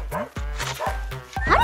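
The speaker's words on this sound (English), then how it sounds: "How did the dog end up there?" A dog gives a quick series of short, high yipping barks, about four or five in under two seconds, close and fairly loud.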